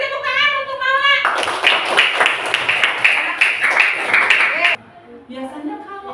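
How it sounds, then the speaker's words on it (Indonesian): Brief clapping from a school audience for Maula, a quick burst of hand claps sandwiched between stretches of a speaker talking. "Beri tepuk tangan untuk Maula."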